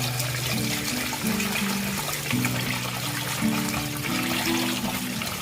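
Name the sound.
washing mung dal lentils in water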